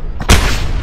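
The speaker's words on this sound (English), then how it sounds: "Charley Tank is now powered by explosions" A single sharp, loud explosion in Just Cause 2 multiplayer, a sudden deep boom with a rumbling tail that fades quickly.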